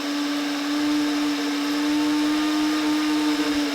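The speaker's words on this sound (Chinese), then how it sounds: "给把盖关上之后就拿去搅拌，把它们搅到碎为止" An electric blender grinds pandan leaves with water, its motor holding a loud, steady whirring hum with a grainy churning texture from start to finish.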